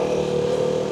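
A KTM Duke 390 motorcycle engine braking while rolling downhill, a steady mid-pitched engine drone held at constant revs, loud and close throughout the brief moment.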